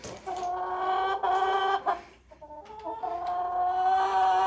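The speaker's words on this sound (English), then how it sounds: "I don't know which chicken that is, but she says hi." A hen clucks close by in a string of drawn-out, nasal calls with a brief pause midway. There is no talking.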